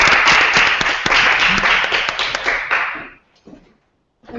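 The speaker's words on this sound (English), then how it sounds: "Big applause to all of you." A small group claps together in a dense burst lasting about three seconds, then the clapping stops abruptly, leaving a few scattered taps and near silence.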